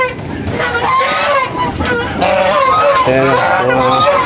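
Golden chickens on a farm cluck and call repeatedly at close range, with a person talking over them throughout.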